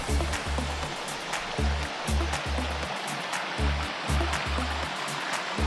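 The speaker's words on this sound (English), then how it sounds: "A lovely wee waterfall up there." Steady rushing water from a small waterfall near Barrisdale Bay in Knoydart, Scotland, fills the scene, with rhythmic low thumps pulsing underneath throughout.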